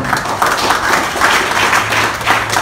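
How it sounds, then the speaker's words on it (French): Audience applause for an honoree at a cultural award ceremony, a short burst of many hands clapping with a pulsing, uneven rhythm, fairly close and loud. "Marc Xavier, sous vos applaudissements, s'il vous plaît."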